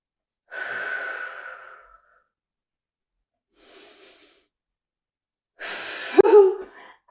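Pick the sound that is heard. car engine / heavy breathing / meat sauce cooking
heavy breathing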